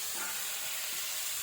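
Food frying in a pan as a mother cooks at home, a fairly faint, steady sizzle with a soft hiss and no voices.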